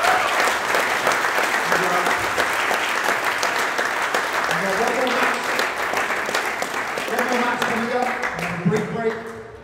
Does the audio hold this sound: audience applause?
yes